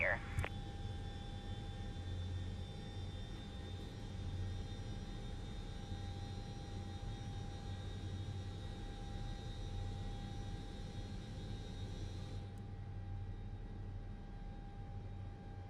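In a flight simulator, engine number 1 of an L1011 TriStar spools up to a steady start. A constant airy whine and rumble holds with a faint high tone, and people talk over it.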